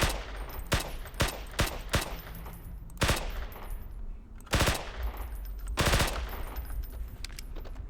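B&T MP9 or TMP submachine gun in the game Hunt Down The Freeman, firing in sharp single shots and short bursts, loud and close over a constant background hum, with no talking.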